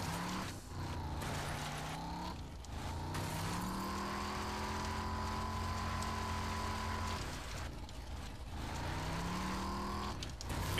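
Engine of a vehicle driven in the video game Rage, a steady droning hum with shifting pitch that rises and falls over several passes, continuous and fairly loud, with no talk.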